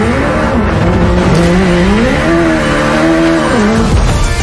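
Hyundai RN24 rolling lab car, an Ioniq 5 N based test car with i20 N Rally1 steering, revving loudly and continuously, its engine-like tone rising and falling in pitch with no talk over it.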